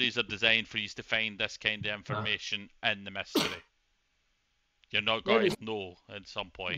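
A single sharp sneeze breaks out during a pause in people's conversation, with talking before and after it.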